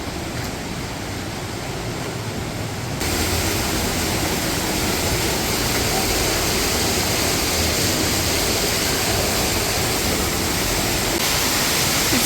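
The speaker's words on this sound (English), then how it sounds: "It's a cave waterfall. How cool is that?" A waterfall pouring inside a cave at Pinnacles National Park makes a loud, continuous roar of falling water that swells a few seconds in and then holds steady and close, with no voices.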